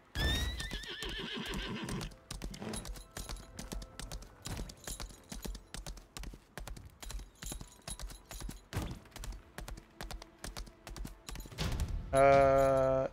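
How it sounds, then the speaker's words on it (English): Video game horse in the open world of West Luterra, a loud neigh at the start, then a steady rhythmic clip-clop of hooves, and another whinny near the end. "Back on my horse."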